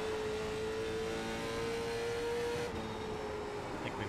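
Late model stock car engine in the iRacing video game, holding a steady high drone with a sustained tone that shifts slightly, loud and continuous with no talk over it.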